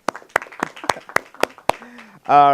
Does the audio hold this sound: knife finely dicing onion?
no